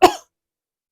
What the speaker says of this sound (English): Do you know how you fix it? You cough.